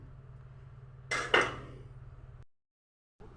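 A pot of cooked dal is lifted off the stove, making a brief double metallic clank over a low steady kitchen hum before the sound drops to silence.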